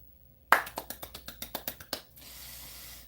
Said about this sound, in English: It's kind of like a loud golf clap